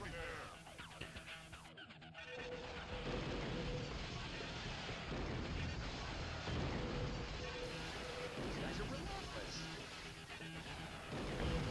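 Explosion in the Nintendo 64 Spider-Man game during a police chase, a dense continuous rumbling roar that stays loud and steady throughout.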